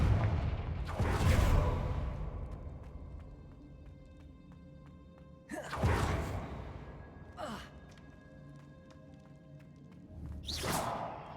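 Three fiery blasting-spell explosions from a wizarding action game, each a sharp whooshing burst that decays slowly, spaced several seconds apart against a quiet ambient background with a faint softer whoosh between them.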